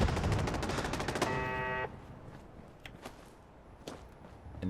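Automated kill box turret rattling off rapid machine-gun fire in Fallout 4 against attacking super mutants, a dense burst that cuts off abruptly, followed by a few scattered distant cracks.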